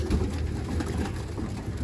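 A caught stray pigeon coos in low, soft, throaty pulses, close and steady, with a faint hiss of background noise and no talk.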